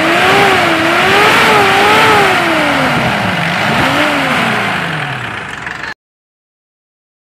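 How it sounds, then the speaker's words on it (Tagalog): A 2009 Mitsubishi Strada pickup engine runs steadily with a broadband roar, its pitch rising and falling through several revs before cutting off abruptly near the end. "So, makinig tayo sa engine."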